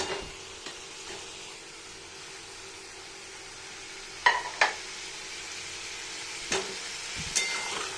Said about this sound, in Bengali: এবার এটাকে আমি ভালো করে কষিয়ে নেব।